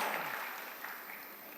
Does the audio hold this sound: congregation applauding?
yes